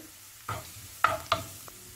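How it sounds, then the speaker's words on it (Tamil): Chopped onions sauté in a pan with a faint sizzle, while a spoon stirs them in three or four quick scraping strokes, close and quiet. "நான் வந்து பொடியாக நறுக்கிட்டு வதக்கி எடுத்துக்கிறேன்"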